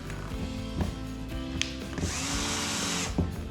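A power drill drives screws into a roof skylight being fitted on a camper van, the motor whirring in several close, steady bursts with short pauses between them and a longer run near the end.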